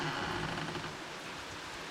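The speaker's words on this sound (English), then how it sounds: "Had to run in real quick because it's raining out there." Steady rain falling outdoors, an even broadband hiss of drops on surfaces that stays constant and fairly loud throughout, with no voices.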